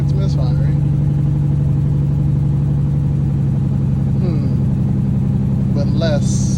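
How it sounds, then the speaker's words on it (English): A car engine with a misfire runs at a steady idle throughout, its low uneven drone close and constant while someone speaks briefly over it. "It definitely still sounds like it's misfiring."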